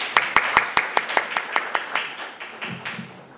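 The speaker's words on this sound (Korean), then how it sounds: "여러분 박수로 맞이해 주시기 바랍니다" Applause welcomes the Guyang-ri village head at a solar dividend policy forum, a small group clapping in distinct near claps that thin out and fade, with a faint voice beginning at the end.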